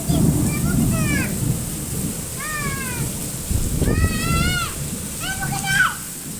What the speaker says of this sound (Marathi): आता लय भयानक पाऊस झाला